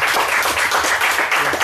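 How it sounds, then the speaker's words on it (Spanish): Applause from a café audience at a philosophy discussion session, a dense steady wash of hand claps lasting the whole short stretch at moderate loudness. "Fuerte aplauso."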